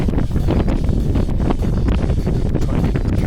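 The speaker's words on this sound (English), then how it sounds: "Sorry if this wind is noisy, it's blowing like anything out here." Strong outdoor wind buffets the microphone in a steady, loud roar of low rumble and gusty noise outside a garage, with no other clear sounds.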